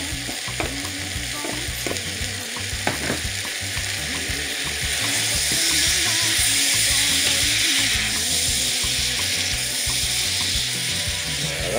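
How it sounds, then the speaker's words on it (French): Sliced tomatoes for an oxtail curry sizzle loudly in a hot pan, a dense continuous crackle broken by a few sharp clicks of a spoon stirring, close up and without speech. "Maintenant, on va pouvoir ajouter nos tomates qui ont été émincées."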